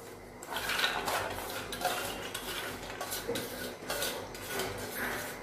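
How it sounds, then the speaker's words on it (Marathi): Dry chana dal is poured into a pressure cooker pot, producing close, intermittent metallic clattering and rattling bursts that rise and fall over a few seconds. "त्यात आपण आपली चणा डाळ घालूया।"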